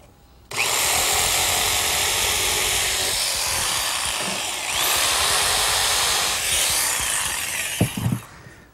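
A circular saw and a jigsaw notch pieces of 5/4 by 6 decking for a gazebo. The whine is loud and steady and runs almost continuously, with a brief change in pitch midway and a few clunks near the end.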